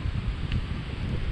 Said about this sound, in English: So windy down here as well.